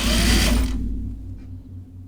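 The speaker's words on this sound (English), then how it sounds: "I'm gonna sew my underarm seam, the side seam here, so I can set my sleeves in." A sewing machine stitches the underarm side seam of a shirt: a short, loud burst of rapid stitching that stops within a second, then a low hum fades out. No one speaks.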